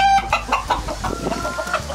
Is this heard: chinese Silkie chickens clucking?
yes